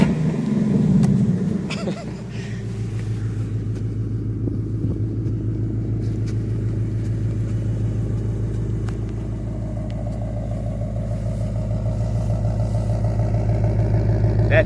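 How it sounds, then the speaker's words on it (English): A 2025 Mustang GT with active exhaust and four tips, a deep, steady rumble settling into idle after a brief louder blip at the start, close and continuous throughout. "That's the active exhaust."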